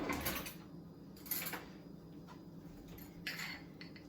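A metal spoon is fetched in a home kitchen while making French toast, with a few sharp cutlery clinks and light rattles at intervals against a quiet background.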